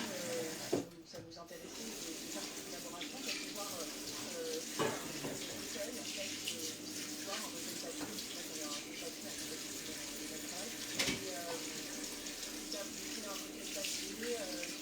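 Food being washed under a running tap, with white vinegar added, a steady close splashing rush of water with light clatter, under intermittent talk.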